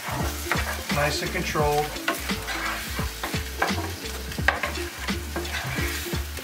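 Vodka sauce for rigatoni is stirred in a sizzling pan, a steady fry hiss under repeated close scraping and stirring strokes, with a brief spoken remark.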